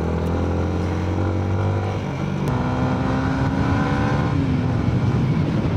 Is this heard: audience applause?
no